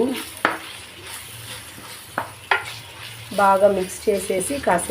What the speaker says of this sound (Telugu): అన్ని టమాటా పీసెస్ అన్నీ నీట్గా మనం తీసుకున్నవన్నీ వేసేయాలి. వేసేసి బాగా మిక్స్ చేసేసి